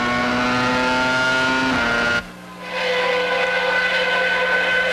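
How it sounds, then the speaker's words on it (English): Michael Schumacher's Benetton Formula 1 car at the 1995 Spanish Grand Prix screams past the pit entrance, a loud high-revving onboard engine whine that dips sharply on a gear change, then climbs again. "You ride the nose of Schumacher's Benetton as he passes the pit entrance."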